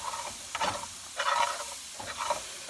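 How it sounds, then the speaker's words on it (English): Flour being stirred in a hot frying pan for garlic parmesan chicken: a few scraping strokes with soft sizzling underneath, close and moderately quiet, no talking. "you want to stir it for a minute or two because you want to cook the flour taste out of the flour"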